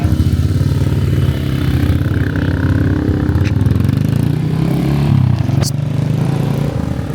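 Motorcycle engine revving hard and continuously at night as the rider attempts a wheelie, loud and close, with a brief rising whine near the end.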